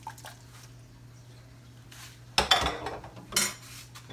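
Pearl onions drop into a pot roast base with a clattering splash and wet squish, followed by a second, shorter burst of rattling against the pot, after a quiet stretch of low hum.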